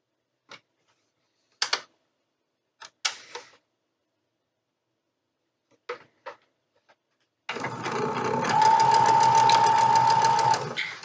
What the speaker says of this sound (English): And we'll just sew those up together.